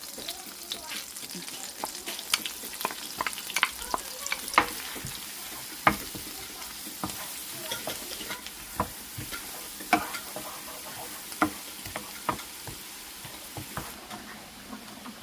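Shrimp and garlic fry in a pan for buttered shrimp, giving a continuous close sizzle studded with sharp crackles and pops and occasional stirring clicks throughout.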